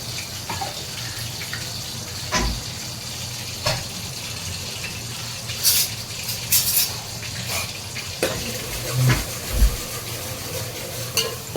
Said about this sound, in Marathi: चांगली तेलामध्ये अशी भाजून घ्यायची.